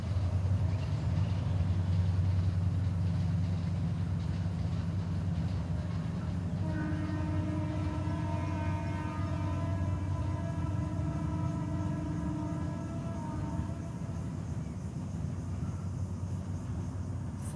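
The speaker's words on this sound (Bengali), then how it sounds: "ট্রেন যাইতেছে" A train passes a village riverside: a steady low rumble grows into a sustained, ringing tonal whine partway through that carries on for several seconds at moderate distance.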